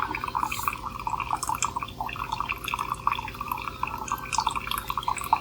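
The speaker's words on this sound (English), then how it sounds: "It's taking a little longer than it normally would to fill the cup because I choose strong brew" A Keurig K-Duo coffeemaker brews strong coffee into a cup, a steady close trickle and dripping of liquid with gurgling splashes running throughout, with no talking.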